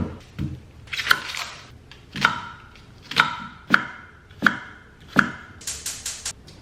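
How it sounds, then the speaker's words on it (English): A knife chops through half of a large onion on a cutting board, about seven crisp, evenly spaced thuds close up, with a quick flurry of lighter cuts at the end. "Let's cut up this onion."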